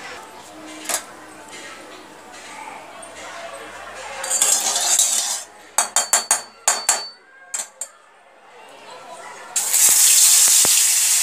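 Tap water running in bursts as hands are washed at a kitchen sink, with a short run of sharp knocks and clinks between gushes and a stronger rush of water at the end.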